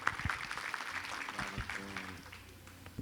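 Audience applause at an OAB event panel, a faint, scattered patter of clapping in a hall with a brief spoken voice underneath.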